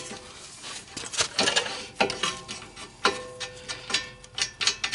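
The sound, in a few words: bolt being tightened on 2008 Honda CR-V brake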